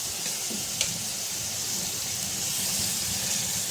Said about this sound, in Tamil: இப்போ நம்ம இஞ்சி பூண்டு பேஸ்ட்டு சேர்த்துக்கலாம்